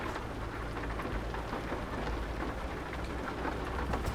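Rain in the truck driving game Euro Truck Simulator 2, steady dense hiss of rainfall on the cab with a low rumble underneath, continuous and fairly loud, without speech.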